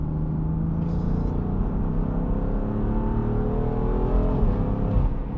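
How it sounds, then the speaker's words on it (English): BMW M3 Touring engine pulling under light, feathered throttle, a steady rising drone that builds gradually, heard from inside the car with no one talking over it. "I'm literally feathering the throttle. It just picks up so nicely, but not too much torque down low. Listen to it."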